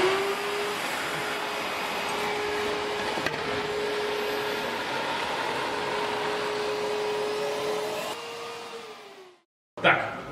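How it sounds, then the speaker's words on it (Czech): A vacuum cleaner running through a flexible aluminium hose gives a loud, steady whine and roar that holds for several seconds, then winds down and cuts off, followed by a brief clatter. "Takže stačí jenom zapnout a můžeš vysát."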